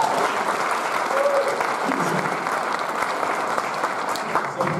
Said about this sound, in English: Michael Fisher, one more round of applause,